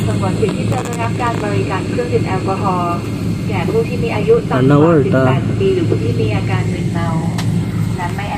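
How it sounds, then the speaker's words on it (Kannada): A steady roar of jet engines fills the cabin as a plane takes off, with people talking over the low, continuous rumble. "ಫ್ಲೈಟ್ ಟೇಕಪ್ ಆಗ್ತಾ ಇದೆ"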